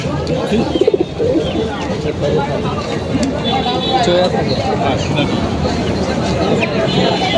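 Pigeons cooing at a busy pigeon market, with Shirazi and other fancy breeds for sale, a steady layer of coos and bird calls mixed into crowd babble and nearby talk throughout.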